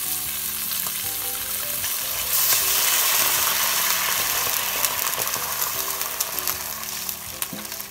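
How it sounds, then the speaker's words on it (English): White wine hits a hot frying pan while cooking sea bream acqua pazza, a steady close sizzle that swells louder partway through, with scraping and stirring clatter and no talk. "you put white wine"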